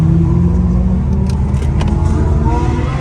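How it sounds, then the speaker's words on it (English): Catless Dodge Challenger Hellcat Redeye at night, its exhaust rumbling loud and deep at close range as a steady, heavy drone with slight throttle swells. "Dude, my car sounds insane."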